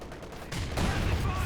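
A landmine detonates in Company of Heroes 2, a sudden loud blast that rises midway and rumbles on under continuing battlefield gunfire, with a commentator's voice faintly present.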